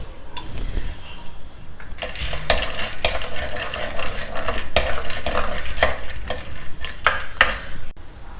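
Peanuts roast in a little oil in a pan, scraped and stirred with a utensil in a steady run of clinks and scrapes over a light sizzle, close and fairly loud, with no talking.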